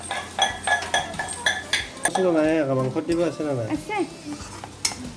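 Spice mix whisked with hot water in a bowl in a home kitchen, with quick clinking and scraping strokes of utensil against the bowl, close by, and someone talking over the later strokes.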